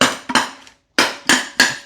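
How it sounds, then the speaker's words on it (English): Five sharp metallic hammer blows strike the side of a lawn mower engine block: two quick hits, a short pause, then three more at an even pace. They are loud and close, with no talking. "Let's put a hammer through the side of the block."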